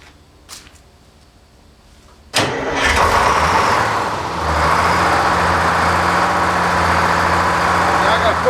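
A sawmill engine cranks and catches with a sudden loud burst, then settles into a steady, rumbling idle that continues close by to the end, after a few faint knocks beforehand.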